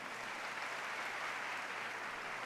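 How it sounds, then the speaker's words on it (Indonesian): Church congregation applauding during a worship service, a dense steady wash of many hands clapping at once, sustained and even throughout, with no voices standing out. "Sekali lagi berikan tepuk tangan yang meriah"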